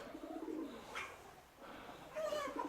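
Soft pigeon cooing, a few low throaty coos repeating at a distance, faint against quiet background noise.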